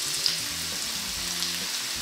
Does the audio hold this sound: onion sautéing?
yes